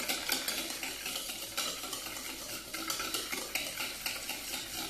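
Egg yolks being whisked by hand in a bowl for chocolate éclair dough, a fast, continuous rhythmic scraping and clatter close up.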